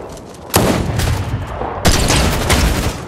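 Two loud bursts of rapid gunfire in the video game Fortnite, each a harsh wideband volley of shots, the second beginning about a second after the first, close and dominant with no talking over it.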